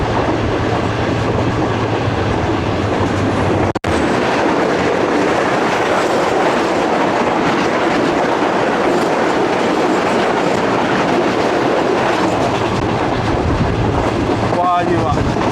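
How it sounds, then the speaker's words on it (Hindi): The 48 Down Rehman Baba Express passing close by, a loud, continuous roar of wheels and rushing wind with rhythmic clickety-clack, heard from aboard another train on the Rohri to Lahore route. "और ये 48 डाउन रहमान बाबा एक्सप्रेस"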